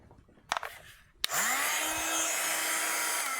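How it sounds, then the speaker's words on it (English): A hair dryer switches on with a sharp click and blows steadily at high volume, a constant whirring roar after a few brief knocks. "Have you got a hairdryer handy?"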